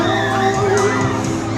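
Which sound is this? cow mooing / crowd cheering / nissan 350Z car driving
crowd cheering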